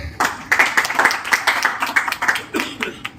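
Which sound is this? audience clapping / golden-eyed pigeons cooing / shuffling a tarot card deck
audience clapping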